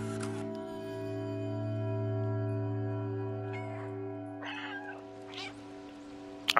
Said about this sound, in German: Ich kann immer noch mauzen.